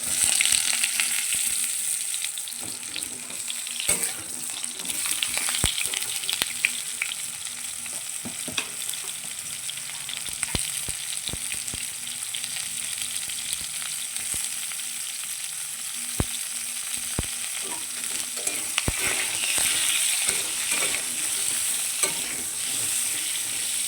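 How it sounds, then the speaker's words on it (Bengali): Pointed gourd pieces sizzle in hot oil with salt and turmeric, a steady frying hiss broken by scrapes and clicks of stirring in the pan. "পটলগুলো দিয়ে দেবো, নুন হলুদ দিয়ে ভেজে নেবো।"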